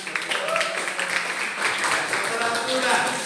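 Audience clapping at a school gathering, a continuous mid-level patter of many hands with some voices mixed in.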